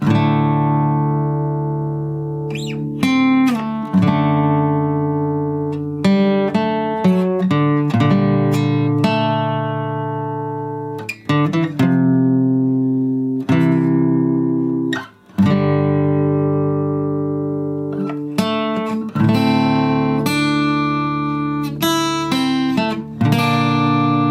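A guitar plays the B section of the Cyberpunk 2077 Aldecaldos theme, a repeating picked riff over ringing open strings, bright and close, with a steady rhythm and no voices.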